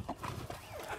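A horse at a gate snorting and whinnying in short bursts, close and fairly loud over about a second, with no talk.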